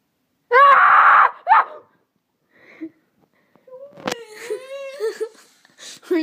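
A loud shrill scream rings out close by to wake a sister as a prank, followed by a shorter yell, then startled whimpering and moaning cries with some vocal sounds in between.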